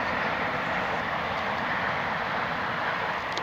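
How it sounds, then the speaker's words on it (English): A passing train rumbles close by as a loud, steady broadband roar that holds throughout with no break, with no voices over it. "do excuse the train"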